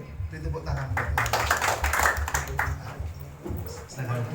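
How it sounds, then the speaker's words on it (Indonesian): Congregation clapping together during a church worship service, a dense, steady wash of hand claps filling the room, with voices and background music beneath it throughout. "Beri tepuk tangan buat Tuhan."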